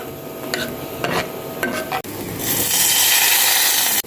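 Cumin seeds and whole red chillies stirred into hot ghee, giving a scraping stir with a steady sizzle that swells into loud, continuous frying for the second half.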